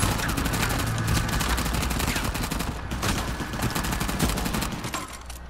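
Sustained rapid gunfire fills an Uncharted 4 firefight, with overlapping automatic bursts and sharp individual shots that stay loud and continuous from start to finish.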